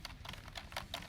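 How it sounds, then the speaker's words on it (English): Quick typing on a computer keyboard, a close run of light, crisp key clicks in an uneven rhythm of about five strokes over a second, quiet and alone. "I can't stop typing."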